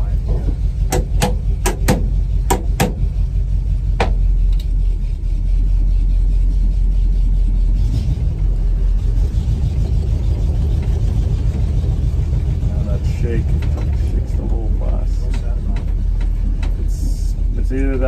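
A bus engine running after a motor swap, heard from outside as a loud, steady low rumble, with sharp clicks early on and people talking over it.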